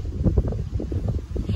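Wind gusting outdoors in a spring flower garden, a loud low buffeting rumble of wind against the microphone that pulses unevenly throughout.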